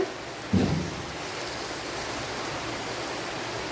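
Steady rain hisses as a broad, even wash of noise, with a brief low thump early on, heard from a kitchen during a power cut.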